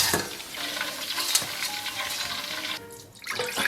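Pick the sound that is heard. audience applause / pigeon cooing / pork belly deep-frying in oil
pork belly deep-frying in oil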